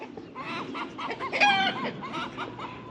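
An agitated chicken clucks repeatedly in a rising, squawking burst, fairly close on a small farm, with no talk over it.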